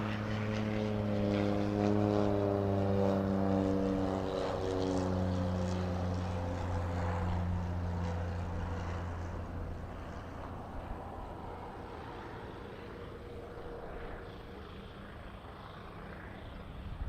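Cessna Caravan single-engine turboprop approaching to land, a steady droning propeller hum with strong low harmonics, loud and close at first and gradually fading as it passes, with no voices.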